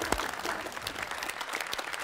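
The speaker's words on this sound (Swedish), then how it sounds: "Kan ni applådera?" Audience applause in a theater, a dense, steady wash of clapping with a few sharper individual claps standing out, moderately loud and continuous throughout.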